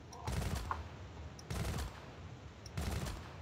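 Three short bursts of M16 rifle fire in the video game Battlefield Hardline, each a quick rattle of shots separated by brief pauses, moderately loud and with no talk over them.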